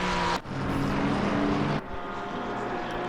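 Race cars, a Porsche and a Ferrari, on track at the Hungaroring in Assetto Corsa Competizione, loud continuous engine whine with two abrupt cuts where the onboard sound switches, no talking.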